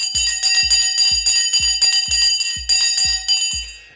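Stock market opening bell ringing in rapid, evenly spaced strikes, about eight loud metallic clangs with bright ringing overtones, close and alone.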